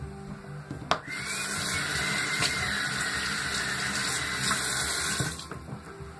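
Tap water runs steadily into a sink during washing up, a continuous close rushing hiss with a few small knocks and clatters of items being rinsed, and no talking.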